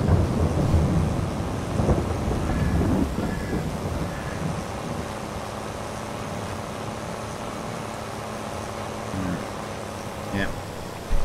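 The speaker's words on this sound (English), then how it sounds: "It's still raining." Rain in the farming game Farming Simulator 22: a continuous hiss of steady rainfall with low rumbling underneath, louder at first and then settling to an even wash for the rest of the stretch.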